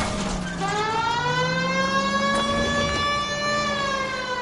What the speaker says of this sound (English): think we need a siren.